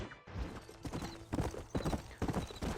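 Horse hooves clip-clop steadily in Red Dead Redemption, a rhythmic, close gallop of repeated thuds, with no talking.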